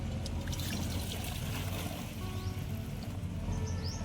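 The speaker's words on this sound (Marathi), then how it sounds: "आता काढून घेऊ एका दुसऱ्या भांड्यात मी" Hot salted water, just boiled, being poured from one pot into another, a steady close trickling and splashing stream that runs continuously at low level with no talk.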